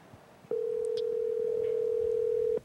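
A telephone tone sounds as one steady, unbroken electronic note lasting about two seconds. It is loud and clear over a faint background.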